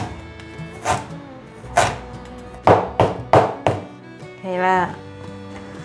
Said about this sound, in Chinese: 把姜切碎